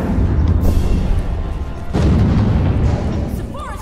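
Enemy fire in Aliens: Colonial Marines, with deep rumbling booms and blasts that swell near the midpoint over a steady loud low roar and a few chirping electronic tones at the end.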